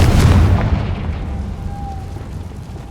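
A deep boom from a Confringo spell in the Hogwarts Legacy video game hits hard at the start, then decays into a fading rumble with a faint ringing tone.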